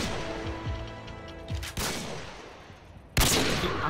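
Several loud gunfire bursts from the video game Call of Duty MW2, with shots scattered early on and two sharp, heavy reports near the middle and end, all close and without talk.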